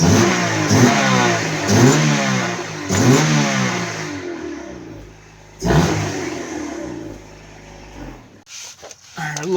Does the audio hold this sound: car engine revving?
yes